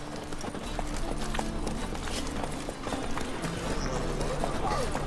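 Horse hooves galloping in the Witcher 3 video game, a steady, fairly loud clip-clop running throughout beneath voices talking.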